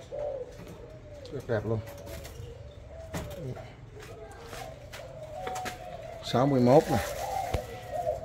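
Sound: Malaysian spotted doves cooing

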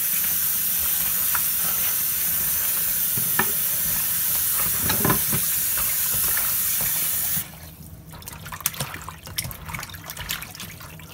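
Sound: washing oxtail with water

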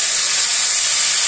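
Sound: vegetable stalks and potatoes added to hot wok, sizzling

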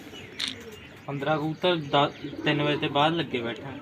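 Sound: pigeons cooing

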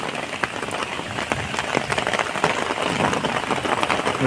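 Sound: rain falling

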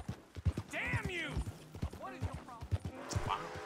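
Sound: horse galloping in a video game

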